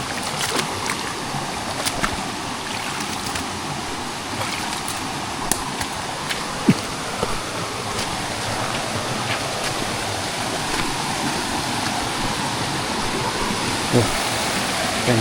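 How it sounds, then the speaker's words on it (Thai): Strongly flowing stream water on a mountain path rushes in a steady broadband wash, close and continuous, with occasional small knocks and faint voices beneath. "ใส่น้ำไหลจ้าๆเลย"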